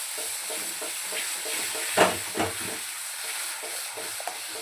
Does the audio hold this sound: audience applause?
no